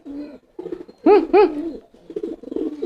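Homing pigeons coo close by, two strong rounded coos in the middle framed by softer murmuring coos before and after.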